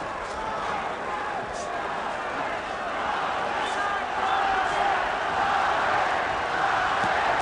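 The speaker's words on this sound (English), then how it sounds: "Crowd chanting Chavez, Chavez." Boxing arena crowd at a Julio Cesar Chavez versus De La Hoya fight, a dense, steady roar of many voices chanting and shouting that swells slightly louder in the second half.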